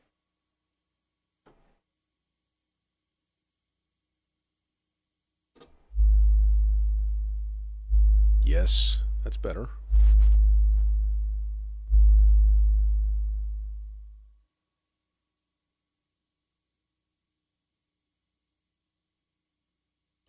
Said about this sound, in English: Sine wave might be better. Let's try sine wave.